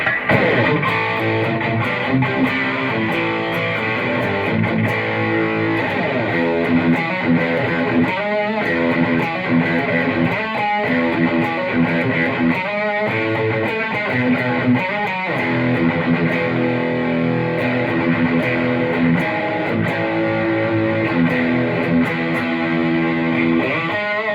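Electric guitar played through a Marshall amp on the lead channel with the reverb off, a dry, distorted tone with sustained chords and quick note runs, loud and continuous and heard alone.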